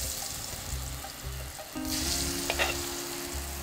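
Potato wedges frying in hot oil give a steady sizzle that swells into a louder, brighter crackle as more potato pieces are dropped into the pan, with no talk.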